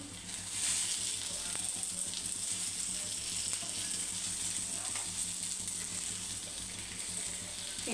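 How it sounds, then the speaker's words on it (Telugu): Fish pieces frying in a pan sizzle and crackle steadily up close, with a constant bright hiss of hot oil and a few soft scraping clicks from stirring. "మరోవైపు కూడా ఇట్లానే బాగా కాల్చుకుందామండి"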